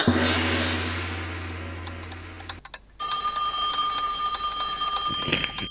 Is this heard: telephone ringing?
yes